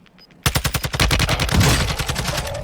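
TAQ 56 rifle fire in a video game, a loud, rapid automatic burst of evenly spaced shots that runs for over two seconds after a brief quiet start.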